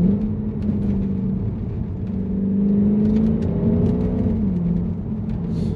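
A Mercedes W204 C63 AMG engine drones loudly from inside the car after a downshift, its pitch swelling and easing back under a steady road rumble.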